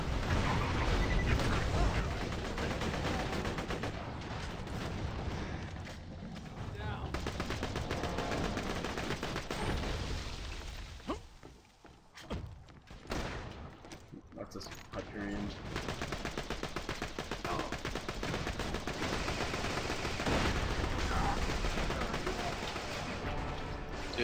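Turret gunfire in a video game, a long stretch of loud rapid shooting and heavy impacts that briefly drops out midway before resuming, with a voice talking over the action.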